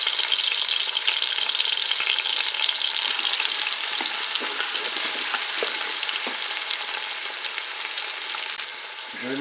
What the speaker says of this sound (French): Je vais faire dorer mon rôti de porc sur toutes ses faces.